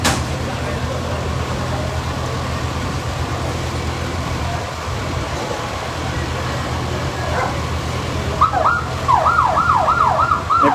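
A police siren wails in a rising-and-falling pattern, starting late and carrying over loud ambient noise at the scene of a warehouse fire in Las Piñas City.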